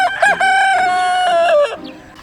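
A rooster crows once, loud and close, in a long drawn-out call inside a free-range poultry enclosure on a farm in the early morning.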